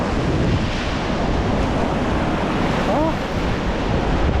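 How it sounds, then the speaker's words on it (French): Sea waves break and wash steadily onto the shore at Cap d'Agde, a continuous loud surf roar with wind, and a brief vocal exclamation near the middle. "Alors c'est vague qui arrive."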